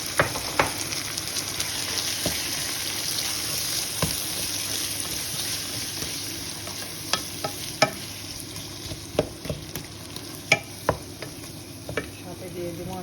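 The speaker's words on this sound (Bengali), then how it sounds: "দুই টেবিল চামচ রসুন বাটা দিলাম, আর 2 টেবিল চামচ আমি আদা বাটা দিলাম।" Garlic and ginger paste fries in a pan with a continuous close sizzle, and scattered sharp clicks of stirring run through it from start to finish.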